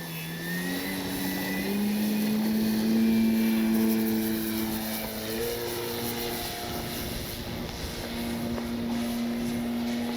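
A Hangar 9 Valiant RC plane with a 20cc gas engine buzzes loudly and continuously during grass hops, its pitch rising and dipping as the throttle changes, close by with no talking.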